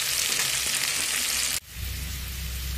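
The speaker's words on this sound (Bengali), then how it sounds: "আলুটা লাল করে ভেজে নিয়েছি।" Potatoes with salt and turmeric fry in oil, a dense loud sizzle that cuts sharply and resumes with a lower, rumbling bubbling hiss.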